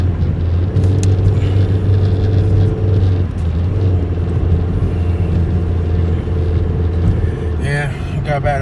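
Car driving along a city-edge road with its check engine light on, a steady low engine rumble and road noise throughout, with a brief squeaky sound near the end.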